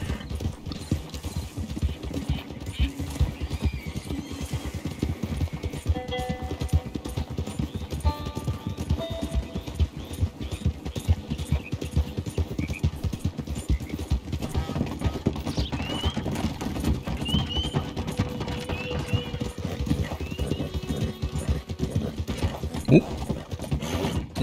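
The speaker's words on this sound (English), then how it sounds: "I want to go to Mary, and I'll bring the white horse, apparently." Horse hooves clip-clop steadily at a walking or trotting rhythm in Red Dead Redemption 2, with an occasional whinny over faint game ambience.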